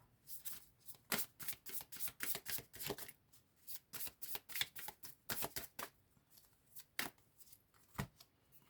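Oracle cards shuffled for a reading, a quick run of crisp riffling bursts in irregular rhythm, close and clear, pausing briefly between handfuls, with no voice.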